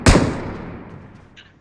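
A single loud gunshot in a video game cracks sharply, then decays in a long fading echo.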